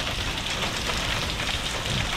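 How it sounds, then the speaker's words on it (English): Outdoors, falling hail keeps up a steady, full rushing patter at an even loudness from start to finish, with nobody talking. "It's hailing right now"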